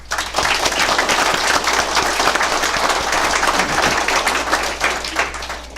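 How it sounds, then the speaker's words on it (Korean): Sustained applause from a studio audience welcoming a presidential candidate to a live televised debate, steady dense clapping at close range, with no talk over it. "먼저 생방송 토론에 응해주신 박 후보께 큰 박수 부탁드립니다."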